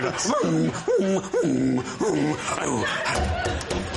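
A man vocally imitates a dog, producing a few short whimpering, snuffling yelps in quick bursts, close up and fairly loud, with faint audience noise behind.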